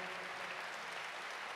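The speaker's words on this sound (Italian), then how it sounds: "Vi pregherei di accoglierlo con un grande applauso" A crowd at a Christmas charity concert applauding steadily, dense even clapping without pauses, fairly distant and moderate in loudness.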